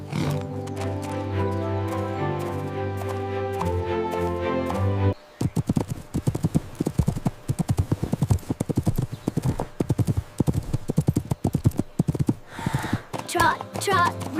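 Pony hooves trot in a kids' horse farm cartoon, a quick steady clip-clop that follows a short music passage, with faint voices near the end.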